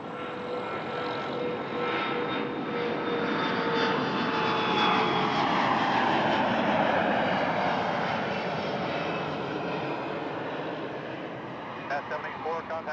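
A Boeing 777 airliner landing at Toronto Pearson Airport gives a loud sustained roar of engines that swells and slowly fades over several seconds, with a voice speaking over it.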